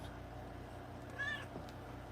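A cat gives a single short, faint meow over a constant low hum, likely a room with a running ceiling fan.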